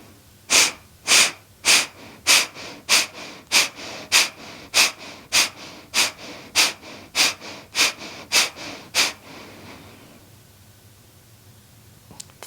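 Deep, forceful breathing during a yoga exercise: about fifteen sharp, evenly spaced breaths close to the listener, each a brief rush of air, growing slightly softer before trailing off into quiet.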